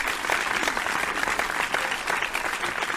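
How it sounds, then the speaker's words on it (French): Warm applause at a reception as a guest is welcomed onto the stage, a full, even wash of clapping from a crowd that stays steady and loud throughout. "Je vous invite à applaudir très fort."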